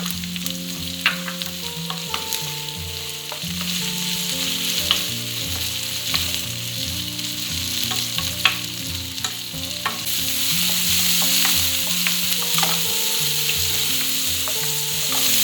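Lady's fingers stir-fry with spices, curry leaves and tomato in hot oil, a steady close sizzle broken by scraping and clinking of the spoon against the pan, with no voices.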